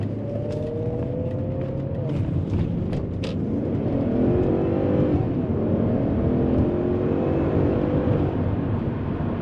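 A 2000 BMW 540i E39 V8 sedan accelerates hard through the gears, its engine note climbing in repeated sweeps with brief drops at each upshift, a loud and steady in-cabin drone with no talking.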